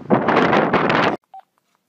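A burst of rough, broadband noise cuts off abruptly, followed by a single short keypad beep from a house phone in a quiet room.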